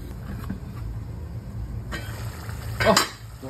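A spoon stirring hilsa fish in a frying pan, with a steady low hiss of cooking underneath and one clear, loud metallic scrape toward the end.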